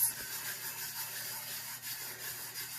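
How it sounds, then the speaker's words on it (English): A vinyl tattoo decal is rubbed down onto a pale pink glitter tumbler, making a continuous close, soft, scratchy rubbing with no talking. "I don't think it matters what direction you rub"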